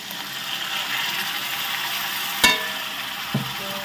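Masala with tomato puree frying in oil for green jackfruit kofta: a steady, close sizzle throughout, broken by a sharp stirring clack and a softer tap near the end.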